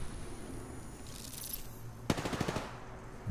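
A brief burst of rapid automatic gunfire rings out in the shooter game Apex Legends, a quick rattling string of shots about midway through, heard over a faint steady background hum without talk.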